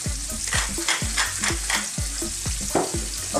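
Garlic cloves and sliced onion fry over medium heat in a pan for a seafood stew, a close, steady sizzle broken by rhythmic scraping strokes as the pan is stirred.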